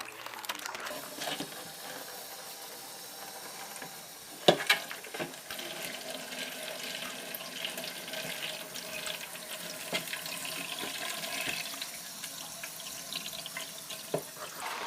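Moss for a betta breeding tank rinsed under a running tap, water splashing steadily into a sink with a few sharp handling clatters, fairly quiet and close.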